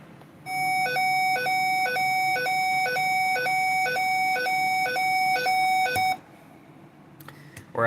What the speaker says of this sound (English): This one, the 4003 slash simplex high-low tone.